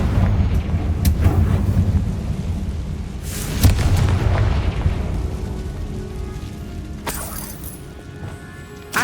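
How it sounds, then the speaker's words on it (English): Spells in the game Hogwarts Legacy, including the Confringo blast spell, set off several booming explosions with shattering crashes and low rumbles, spaced a few seconds apart. "Confringo."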